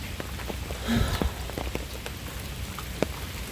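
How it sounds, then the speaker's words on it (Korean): Heavy rain falls outdoors as a steady close patter on surfaces, with scattered louder drops and splashes and no voices. "비가 너무 오니까 아이들이 지금"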